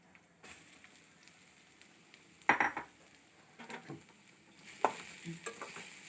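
Grated beetroot goes into a pan of sautéed onions and is stirred. Faint sizzling sits under a few sharp scrapes and clatters of a spatula against the pan, close by and spaced irregularly.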